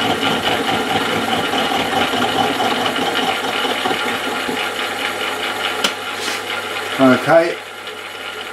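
A 25 RPM power feed motor driving a Myford ML7 lathe gives a continuous mechanical whir with a rattling, gear-like texture. A brief spoken word comes near the end as the sound changes.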